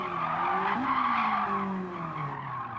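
A car in Gran Turismo 7 skids under the handbrake, its tires squealing in a steady, sliding wail over the engine note for a few seconds, close and loud.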